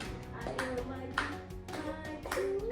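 A school class clapping hands together during a microteaching lesson, several loud rhythmic claps in a row mixed with children's voices and a lingering melodic tone underneath.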